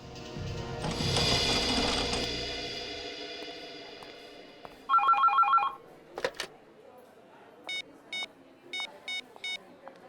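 A telephone rings in short repeated electronic trills, fairly quiet, after a louder mechanical whir fades out.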